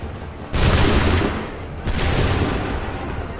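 Massed musket volleys fire in Assassin's Creed 3: two loud, booming salvos, the second about a second and a half after the first, each rolling away into a fading rumble.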